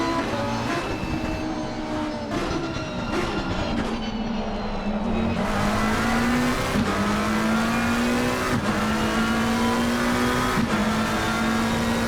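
Race car engines roar loudly and continuously in a video game race at Bathurst, with rising and falling revs as cars pass and shift gears up and down the hillsides.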